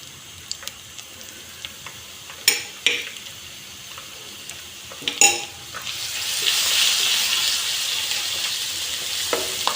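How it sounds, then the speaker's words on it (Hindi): Onions frying in a pan while baingan bharta is cooked: a steady sizzle that swells louder partway through, with a few sharp clicks and knocks of utensils against the pan, close and with no talk. "प्याज को हम लाइट गोल्डन होने तक फ्राई करेंगे।"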